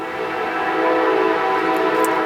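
A train horn blares steadily and loudly, a sustained harmonic blast that holds for the whole moment with no voices over it.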